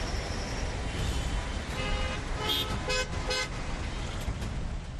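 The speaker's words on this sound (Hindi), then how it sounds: "दिल्ली नोएडा बॉर्डर पर भी लंबी लाइनें हॉर्न बजा रही हैं।" Car horns toot and honk repeatedly in a stalled traffic jam at the Delhi–Noida border during a farmers' protest blockade, several short blasts standing out over a steady rumble of road traffic.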